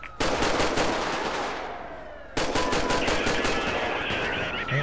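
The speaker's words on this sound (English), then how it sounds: "Shots fired. Requesting code 3 backup." Sustained automatic gunfire in GTA 5 with the LSPDFR police mod, a dense loud rattle of rapid shots that eases off, then a second sharp burst continuing steadily, close and with no voices.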